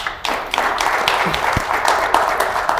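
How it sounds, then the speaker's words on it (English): Scattered applause from a small audience at a Q&A session, with distinct individual claps and taps audible within a moderate, uneven patter. "So a round of applause for him again, guys."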